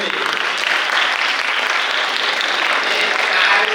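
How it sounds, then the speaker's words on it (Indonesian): Audience applause at a National Children's Day seminar, dense steady clapping from a crowd, close and loud for the whole stretch. "tepuk tangan dulu Helmi"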